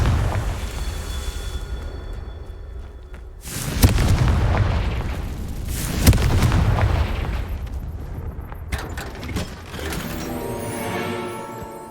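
Repeated Confringo fire spells blast in Hogwarts Legacy, with loud booming explosions landing near 4 and 6 seconds over a rumbling, crackling game soundscape, followed by a softer shimmering tail.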